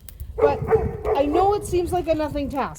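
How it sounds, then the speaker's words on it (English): A dog lets out a few yipping barks and whines off to one side in a farm yard, moderately loud, while a person keeps talking over it. "And that's a dog."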